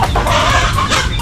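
A hen clucks loudly and close at a chicken farm in the morning, a steady run of clucks over one another with no talk.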